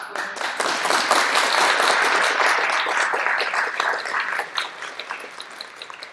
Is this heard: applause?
yes